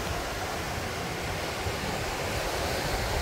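Steady wash of ocean surf breaking on the beach at Miami Beach, a constant broadband roar with no clear breaks, close and fairly loud, and no voices.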